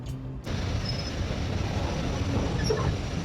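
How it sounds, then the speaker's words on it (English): A 140-year-old steam locomotive built in 1876 runs on a heritage railway near Haworth, England. After a brief quiet moment, a loud, steady rumble of the moving train begins and continues evenly without pause. "This locomotive is 140 years old."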